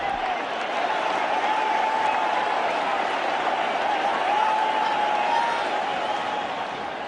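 A packed stadium crowd roars and applauds after a wicket falls in the 2001 India vs Australia Test at Kolkata. The dense, continuous applause and cheering stays loud and even throughout.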